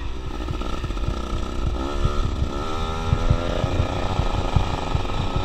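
A dirt bike engine drones steadily as the bike rides through ruts on a track, a loud, close, continuous buzz with rhythmic throttle pulses and no talking.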